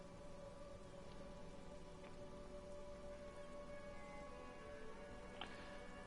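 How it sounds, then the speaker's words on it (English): Rain patters and drips off Eternite-covered roofs along an urban coastline in the video game Disco Elysium, a soft continuous wash with faint scattered drops, quiet and without voices. "Urban coastline, rain dripping off Eternite-covered roofs."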